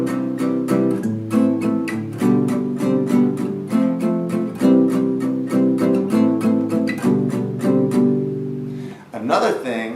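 An acoustic guitar strums a chord progression, with steady rhythmic strokes of open, warm chords played close and clear, ending in a brief scrape of the strings.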